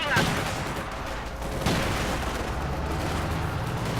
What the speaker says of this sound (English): Panzer gun is fighting nearby, with a Soviet light machine gun in hand as well